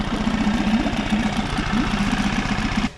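A small 5-horsepower four-stroke Coleman outboard motor idles steadily with a low, even putter that runs without pause, then cuts off abruptly near the end.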